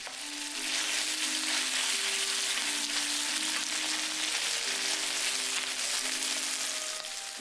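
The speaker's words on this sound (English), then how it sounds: "In goes half of the marinated beef. Spread the meat out so that all pieces are touching the hot pan." Marinated beef sears in a hot pan for Cambodian shaking beef, a steady dense sizzle that runs unbroken throughout, close and loud with no voices.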